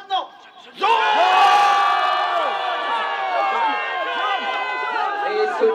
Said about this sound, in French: Ceux qui ont préféré globalement les jaunes, vous allez crier jaune maintenant.